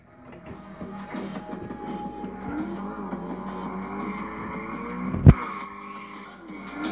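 A Baja truck, the Baja Bullet, drives with a steady engine drone and road rumble, then a sharp loud thump hits near the end before the engine noise carries on.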